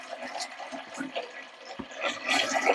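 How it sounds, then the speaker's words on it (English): Tap water runs and splashes into a canner holding rows of jars of green beans, a steady close pour with shifting gurgles that grows louder toward the end. "I'm going to put in some water."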